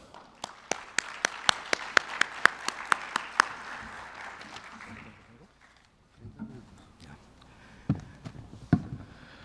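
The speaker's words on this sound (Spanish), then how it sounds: "Recibámoslo con un gran aplauso." Audience applause welcoming a speaker to a talk on pension funds in the Pacific Alliance, a burst of sharp claps over a broad wash that fades after about five seconds, followed by room noise and a few scattered sounds.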